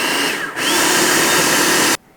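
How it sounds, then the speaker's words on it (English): Food processor blending a cottage cheese chocolate pie filling on high: a loud, steady motor whir that dips briefly early on, then runs evenly for over a second before cutting off abruptly into quiet. "we're going to put on our lid and blend it on high until we no longer see those little curdles"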